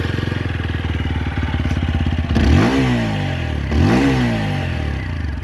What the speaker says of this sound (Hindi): एक बार मैं आपको इसका एग्जॉस्ट नोट भी चेक करा दे रहा हूँ।